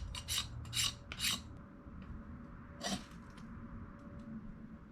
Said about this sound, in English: let's make some shavings with the Wilderness Bowie